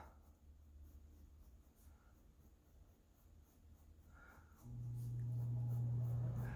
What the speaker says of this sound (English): I'm going to draw a mouth.